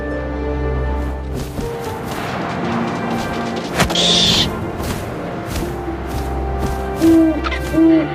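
In the video game What Remains of Edith Finch, a single low owl hoot rises near the four-second mark over a dense, steady bed of ambient tones and rumble, followed by brief warbling calls near the end.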